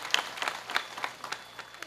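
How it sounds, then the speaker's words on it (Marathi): Audience at a Marathi devotional kirtan gathering clapping in a light, scattered burst, moderately distant and fairly faint. "एकदा यांच्याकरता टाळ्या वाजवा."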